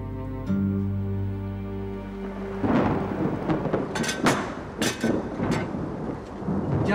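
A thunderstorm rumbles outdoors, with a deep, rolling thunder swell followed by heavy rain hissing and several sharp, loud cracks of nearby thunder.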